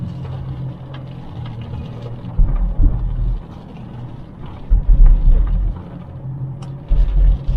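Strong, gusty wind in the aftermath of Typhoon Ulysses rumbles low and heavy, with several louder gusts buffeting the microphone over a steady roar of outdoor noise.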